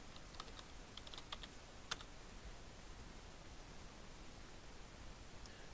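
A computer keyboard being typed on while entering a Linux apt upgrade command in Kali Linux running in VirtualBox: a few faint, sparse clicks near the start, then mostly quiet hiss.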